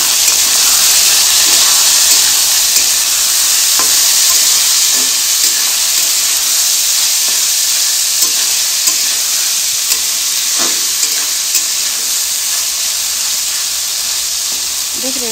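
Onions and chickpeas sizzle loudly in a hot pan, a dense steady frying hiss broken by scattered scraping clicks of a spoon stirring, with faint talk in the background.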